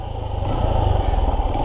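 A Honda XR150L motorcycle being moved into shelter to be parked, its engine idling with a steady, close, loud rumble and some light clatter, no talking.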